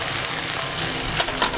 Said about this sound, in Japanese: ベーコンが焼けました。